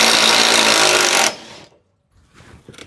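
A power tool whirs loudly and steadily for just over a second, removing the rear gas tank bolts on a Subaru Sambar, then stops, followed by quiet and faint handling clatter.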